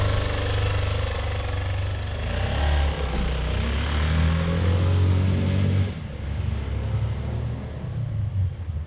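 A Brozz 250 dual sport motorcycle engine drones steadily on the freeway with a low rumbling hum, then shifts in tone partway through, running continuously without any voices.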